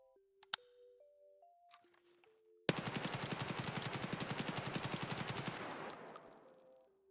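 A rifle fitted with recoil attachments in Escape from Tarkov fires a long, rapid full-auto burst of evenly spaced loud shots, preceded by faint menu-like tones.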